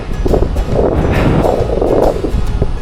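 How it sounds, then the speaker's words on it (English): Strong side wind buffets the microphone while riding a gravel bike on an audax route, a steady loud broadband rush and rumble throughout with gusty swells, no voice. "I'm getting the full-on side wind along here at the moment"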